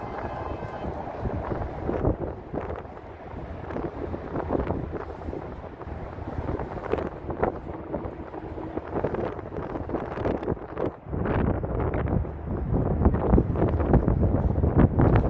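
Steady wind buffeting the microphone outdoors by the water in Bay Ridge, Brooklyn, New York City, a continuous rumbling roar that gusts stronger toward the end.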